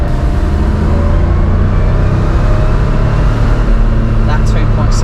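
A 2.7-litre Porsche 911 Targa engine drones loud and close at steady speed, a low rumble carrying a faint thin whine, with brief voices near the end.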